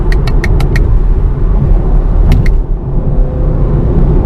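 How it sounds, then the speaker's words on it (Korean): Cabin sound of a 2017 Chevrolet Camaro SS V8 accelerating gently at low rpm with slight knocking, a loud, close, steady low rumble with a few short clicking ticks early on and midway. "저회전에서 이렇게 가속을 하면은 약간 좀 노킹도 약간 일어나는 것 같아요, 지금."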